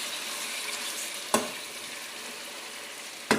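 Chicken and potatoes fry in a pan with a steady, close hiss of sizzling oil, broken by two sharp clunks of a utensil a couple of seconds apart.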